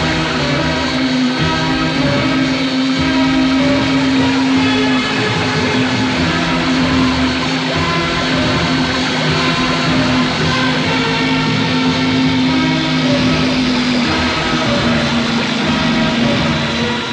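A motor boat engine running steadily, a loud continuous droning hum with a strong buzzing tone that holds unchanged throughout, without speech.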